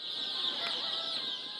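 White silkie chickens (Baekbong ogolgye) on a large poultry farm with many chicks, giving soft continuous clucking and peeping from a dense flock, steady and close with no talk.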